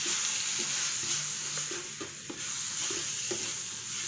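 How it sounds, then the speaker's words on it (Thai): Beef stir-frying in mala chili sauce with a little light soy sauce: steady close sizzling in the pan with repeated scraping and tossing strokes, no talk. "ผัดเลยครับ"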